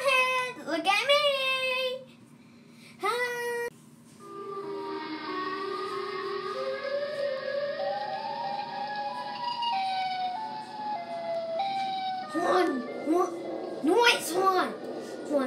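A siren wails with slowly rising, stepping tones over a steady hum. Excited voices shout before and after it, and the siren is close and moderately loud.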